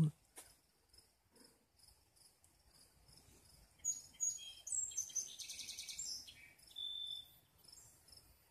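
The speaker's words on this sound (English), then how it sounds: "Bird sound, much more pleasant." Birds chirp and tweet in short high calls outdoors in a vegetable garden planted with corn, sunflowers, peas and spinach, with crickets and light background noise; the calls are faint early and grow clearer and busier in the second half.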